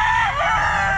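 Roosters and chickens call loudly and close at a crowded pet market, a sustained crowing cry over a dense background din.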